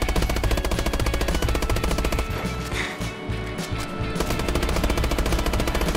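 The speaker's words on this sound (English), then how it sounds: "Just shoot at the blimp." Rapid automatic gunfire in the video game Call of Duty: Advanced Warfare aimed at a blimp, a dense, loud, continuous stream of shots with a brief lull and heavier booms midway before the fire resumes.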